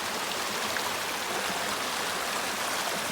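A small creek flows in a steady, broadband rushing wash of water, constant and fairly close with no pauses or voices.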